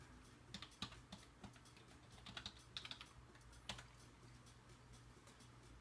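Quiet, close typing on a computer keyboard while entering a password, a run of light irregular key clicks with small pauses over a faint steady hum, no speech.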